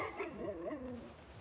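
A dog barks and whimpers close by in a short, soft burst of yips and whining bow-wows, with no voices.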